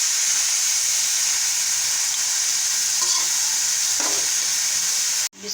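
Ingredients for Chinese biryani frying in a pan: a loud, steady, close sizzling hiss with a couple of faint clicks, cutting off abruptly at the very end.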